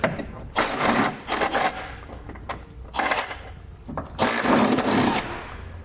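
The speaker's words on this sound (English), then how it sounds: "we can grab a 17 millimeter socket and remove the two bolts" Bolts on a 2017 Toyota truck frame holding a tie-down hook are backed out with a 17 mm socket, giving several bursts of ratcheting and clicking separated by short pauses, close and fairly loud, with no talk.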